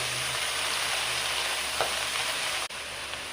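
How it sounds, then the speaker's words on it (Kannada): Kirusaale greens dropped into a hot pan give off a loud, steady sizzle that fills the whole moment, with a faint soft thud near the end and no speech. "ಕಿರುಕ್ಸಲೆ ಸೊಪ್ಪು ಹಾಕ್ತಾ ಇದ್ದೀನಿ ನೋಡಿ"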